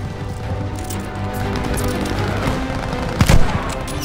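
Machine gun fire during a battle in Call of Duty Vanguard, rapid dense bursts under a steady roar of combat, topped by a sharp louder crash near the end.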